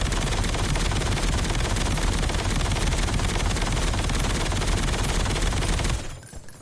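Light machine gun in Black Ops 7 set to semi-auto, blasting a dense, unbroken stream of rapid gunfire for about six seconds before cutting off abruptly, loud and close.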